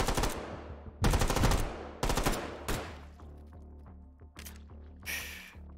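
Gunfire in the VR shooting game H3VR: loud, close sharp shots, several in a quick burst and then single shots, each followed by a short ringing decay.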